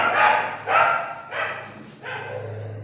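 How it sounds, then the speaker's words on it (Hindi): Several dogs bark in four loud bursts spaced about half a second apart, close by, with a low steady hum underneath. "अरे यार मनीष कुत्ते भौंक रहे हैं"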